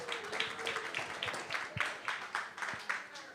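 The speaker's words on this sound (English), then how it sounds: "Let's give them a round of applause." A small audience at a Lag B'omer kumzitz gathering claps in a steady rhythmic beat, about three claps per second, faint and somewhat distant.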